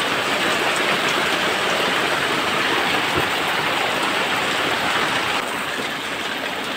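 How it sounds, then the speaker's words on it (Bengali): Heavy rain pours down steadily during a flood, a dense, loud wash of drops hitting surfaces close by with no voices, easing slightly near the end. "আরও জোরে বৃষ্টি হচ্ছে।"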